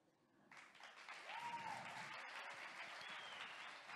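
Audience applause for a first-time performer taking the stage at a live show in Porto Cesareo, swelling in quickly after a brief quiet and holding as steady, fairly distant clapping from a crowd.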